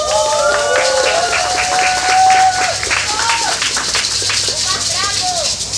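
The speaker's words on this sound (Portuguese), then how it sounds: "Palmas para Lucas" Audience applause at an Indigenous mental health gathering, clapping steadily under a sustained tonal whistle or chant-like voice sliding up and down, with people speaking over the noise.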